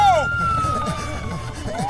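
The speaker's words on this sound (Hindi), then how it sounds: "पता नहीं क्यों पुलिस का सायरन सुन के पैर अपने आप भाग चले।" A wailing police siren sounds in the Hindi cartoon Motu Patlu. It is loud and near, with a rising and falling tone over a short stretch, mixed with background voices.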